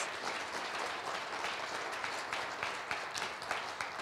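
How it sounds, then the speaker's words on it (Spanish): A church congregation applauds during a Sunday service, a soft, fairly distant and even patter of many hands clapping that continues steadily throughout. "dé un aplauso fuerte"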